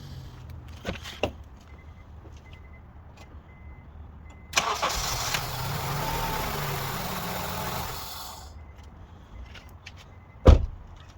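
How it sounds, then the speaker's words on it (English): A few clicks and clunks, then a Honda CR-V engine cranks and catches, running at a steady idle for a few seconds before cutting off with a sharp thump. "Let's start the engine now."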